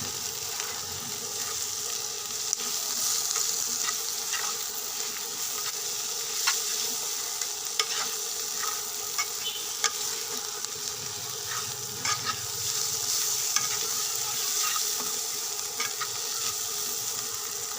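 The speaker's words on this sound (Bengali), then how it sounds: "লবণ হলুদ ভালোভাবে মিশিয়ে নেব।" Salt and turmeric stirred into chepa dried fish frying in a pan, a soft continuous sizzle with faint scraping strokes of the spoon, quiet and close throughout.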